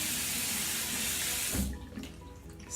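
Tap water runs steadily into a sink while fake blood is rinsed off the skin, a broad hiss that then stops abruptly after about a second and a half, leaving faint splashes and drips.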